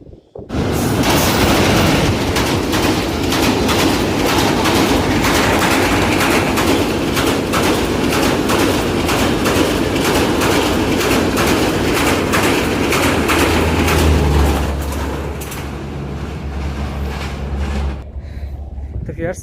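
A train rumbles past near the Dilpashar bridge at sunset, loud and continuous with rattling clatter for about fifteen seconds before fading into a lower rumble, with occasional voices.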